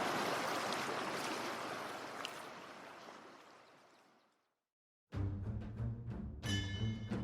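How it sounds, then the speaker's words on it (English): A mountain river flows downstream, a broad steady rush of water that slowly fades to near silence, then a separate burst of louder sound cuts in after a brief gap. "I can hear the river meandering downstream from the mountains"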